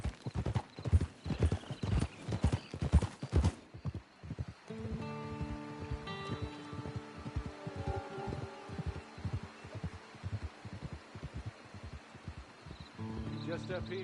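Horse hooves clip-clop steadily in Red Dead Redemption 2 online, a close, even rhythm of hollow knocks running throughout, first with light rustling and later under soft musical tones.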